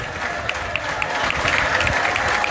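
An audience at a bicentennial celebration applauds in a full, sustained burst of many hands clapping, dense and fairly close, with a few sharper individual claps standing out.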